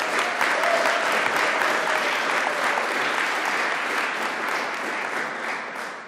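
Sustained audience applause at a Hungarian March 15 commemoration in Munich, honoring youth and Catholic mission choirs and a soloist; dense, steady clapping fills the whole stretch at even loudness, tapering slightly at the end.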